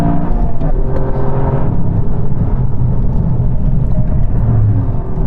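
Toyota GR Yaris being driven around a race circuit, its engine a steady loud drone with a broad rumble and whir throughout, no voices.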